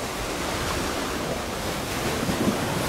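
Choppy sea waves wash and roll steadily at a Maldives resort, the Westin Miriandhoo in the Baa Atoll. A broad surf roar mixes with wind buffeting the microphone, and no one speaks.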